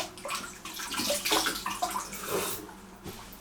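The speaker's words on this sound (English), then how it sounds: "Shower." A home shower runs with a steady, close hiss of spraying water that splashes and shifts slightly as it falls, with no voices.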